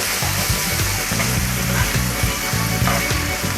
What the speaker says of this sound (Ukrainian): Через 2 хвилини від початку смаження додаю плавлений сир. Гарно перемішую.